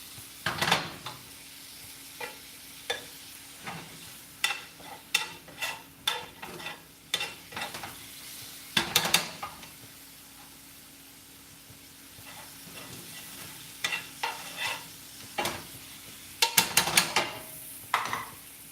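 Brussels sprouts with condiments sizzle and caramelize in a hot pan while being stirred: a steady frying hiss with repeated close scrapes and clatters of a utensil, coming in bursts with quieter pauses between.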